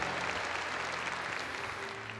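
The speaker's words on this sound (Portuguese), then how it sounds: "Vamos dar uma salva de palmas." Church congregation applauding, a steady dense patter of clapping that fills the whole stretch at moderate level, with no voices over it.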